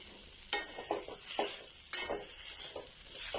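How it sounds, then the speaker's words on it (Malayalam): A spoon stirs kozhukatta mixture in a pan, giving repeated scraping strokes over a soft sizzle, close and fairly quiet with an uneven rhythm. "ഇളക്കി കൊടുക്കുന്നുണ്ട്."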